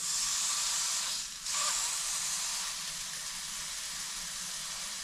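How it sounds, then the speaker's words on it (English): Meat fat searing in a pan at a cold-weather solo campsite, a steady close hiss and sizzle running throughout with a brief dip partway through, no talking. "start by searing off that fat a little bit"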